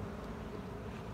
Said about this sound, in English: I think there's enough bees in there to cover.